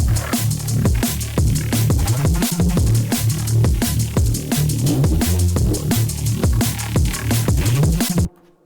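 A gritty, detuned Reese bass built from a Serum preset drones loud and continuous under a punchy sidechained drum pattern, the bass ducking rhythmically with each kick before stopping abruptly near the end.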